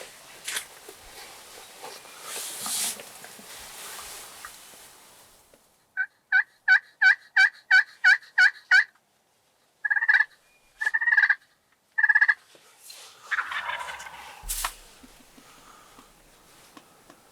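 Wild turkeys call in spring woods in Wisconsin with a rapid run of sharp, evenly spaced gobbling notes, a pause, then a few more clipped bursts, standing out over quiet rustling before and after.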